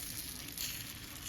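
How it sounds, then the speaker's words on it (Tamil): Foxtail millet dosa batter poured onto a hot pan gives a soft, steady sizzle and faint crackle, quiet and continuous with no talking. "இப்போ தோசை ஊற்ற போகிறேன்."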